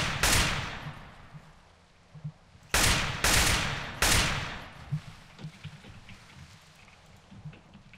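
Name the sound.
gunshots around the base in video game MTA San Andreas DayZ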